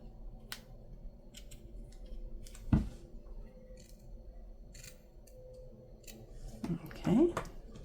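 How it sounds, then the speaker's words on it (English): Sharp craft scissors snip through ribbon for a Valentine's junk journal, giving two crisp cuts several seconds apart, close to the microphone, with soft talk murmuring in the background. "Let's go ahead and cut our ribbon for here."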